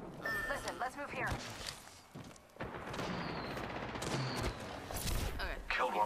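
Automatic gunfire crackles in a battle royale video game match, bursts of rapid shots near and distant mixed with footsteps and game effects, while a voice talks over the action.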